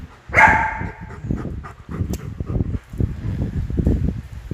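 A dog barks close by, opening with one loud, sharp yelp and then a string of rapid, uneven barks and yips that carry on through to the end.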